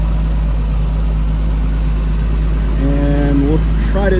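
A warmed-up 1998 Nissan Skyline R34 25GTT idles close by, giving a steady low engine hum with a constant drone throughout, while a person briefly talks over it toward the end.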